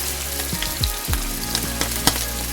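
Partly frozen ground beef crackling loudly in a hot pan while a spatula breaks it up, with a constant close sizzle and several scraping strokes and small pops, no voices.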